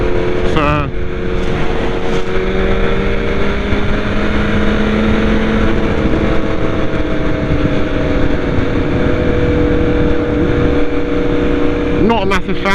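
A BMW motorbike is ridden on wet roads, its engine droning steadily and loudly throughout under heavy wind and road noise, with pitch shifts as it accelerates near the start and end.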